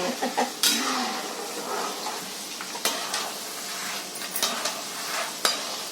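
Peanuts fry in oil for thin poha chivda as they are stirred continuously, a steady close sizzle broken by sharp clinks and scrapes of the spoon against the pan.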